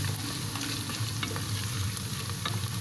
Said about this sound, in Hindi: अब ये प्याज डाल रही हूँ इसमें। अब भी प्याज को मैं लाल कर रही हूँ।